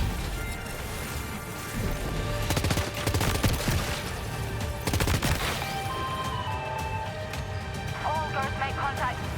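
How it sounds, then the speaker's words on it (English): Assault rifle gunfire in Death Stranding 2, bursts of rapid shots between about 2.5 and 5.5 seconds over a busy game mix with music and other effects throughout. "Back to the assault rifle."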